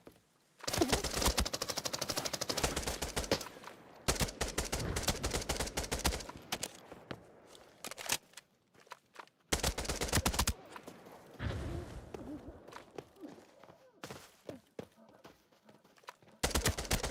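Rapid automatic gunfire from Arena Breakout Infinite comes in several hard, loud bursts separated by brief quiet gaps, with lighter scattered shots and clatter between them.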